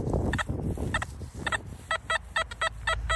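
XP Deus metal detector with a 9-inch coil sounding repeated short electronic beeps in bursts, iron target tones chirping in a steady rhythm over faint ground rustle and handling noise, close and clear.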